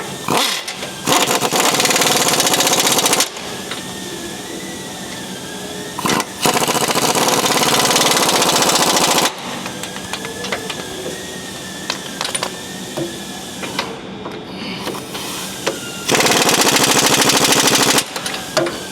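Loud bursts of a power wrench with a 21mm socket rattling suspension bolts tight on a Ford Super Duty leveling kit, several long rapid hammering runs separated by quieter workshop pauses.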